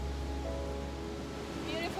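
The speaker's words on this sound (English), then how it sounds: "Look at the beautiful beach." Ocean waves roll onto a beach in a steady, close, low roar, with faint voices in the background.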